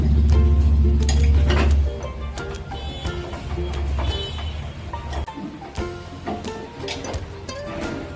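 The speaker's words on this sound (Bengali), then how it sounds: "দেব 2 চামচ দই, টক দই। দিয়ে এটাকে ভালো করে মিশিয়ে নিতে হবে।" A spoon clinks and scrapes against a bowl while vegetables are mixed with sour yogurt for a veg dum biryani marinade, with repeated close clinks over a low, steady background hum.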